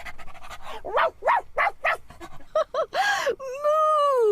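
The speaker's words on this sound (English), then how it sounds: "It's the kind of job that only a sheepdog can do." A sheepdog barking in a series of sharp, rhythmic yelps, then a whining, drawn-out howl-like bark, with breathy panting at the start; loud, close and alone.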